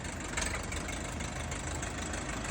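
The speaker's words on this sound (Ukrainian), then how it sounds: "Тарас, хороший тракторист на новенькому РФ404R Pro. Питається кудись поїхати." A new RF404R Pro tractor engine runs with a steady, low, rumbling drone. It sounds fairly faint and distant, and no other sounds break it over the short stretch.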